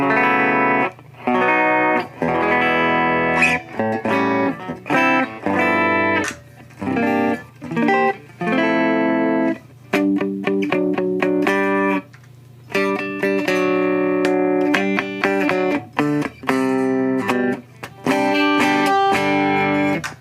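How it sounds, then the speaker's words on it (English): Clean, unprocessed Line 6 JTV-89 electric guitar playing chords and short riffs with no distortion, steady and up close, with brief pauses between phrases. "has a good straight guitar sound"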